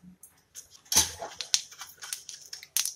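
Mustard seeds crackle and pop in hot ghee in a pan for tempering, a quick scatter of sharp irregular snaps, close and fairly loud, with faint bubbling between them.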